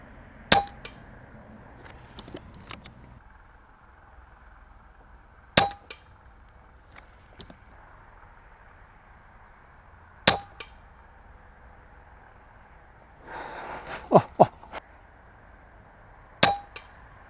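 Air gun pellets striking metal targets and a pellet trap: five or six sharp, ringing metallic clangs spaced several seconds apart, with a brief cluster of rattling hits near the end over a faint background hiss.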